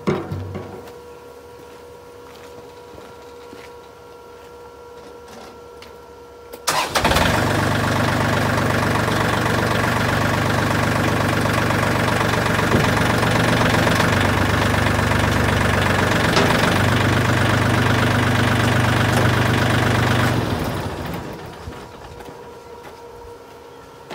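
A John Deere 506 tractor engine kicks in abruptly after a quiet stretch, then runs at a steady, loud idle with a low knocking rumble for about fourteen seconds before dropping away.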